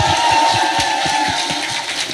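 A live studio audience breaks into sustained applause and cheering at a Korean talk show, a dense, loud crowd roar with rhythmic clapping carrying through the whole moment.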